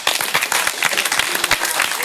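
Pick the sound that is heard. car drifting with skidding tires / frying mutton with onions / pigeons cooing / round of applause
round of applause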